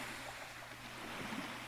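A slow yogic breath voiced in the throat to imitate ocean waves, a soft, airy, continuous rushing hiss, close and quiet, with no other sounds.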